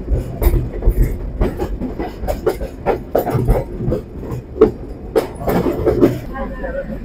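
Inside the last non-AC coach of the Intercity Chitra Express just after leaving Poradah Junction, the wheels keep up a steady clickety-clack over the rails under a constant low rumble, with occasional sharper knocks.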